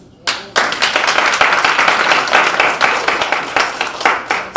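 Steady applause from an audience at a Black History Month event starts sharply and keeps going as a dense, even patter of many hands for about four seconds.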